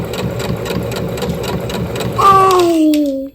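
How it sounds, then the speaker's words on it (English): A domestic sewing machine runs steadily with a rapid, even mechanical hum and stitching rhythm, close and loud, then shifts into a rising whine as it speeds up before cutting off near the end. "my sewing machine is functioning"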